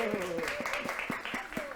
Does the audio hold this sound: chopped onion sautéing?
no